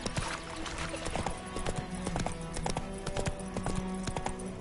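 Hooves of Roach, the horse in The Witcher 3, clattering in a brisk, steady galloping rhythm close by, with a low ambient bed beneath and no talking.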